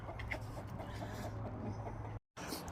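Chickens clucking close by, a steady busy murmur of hen calls with a brief dropout near the end.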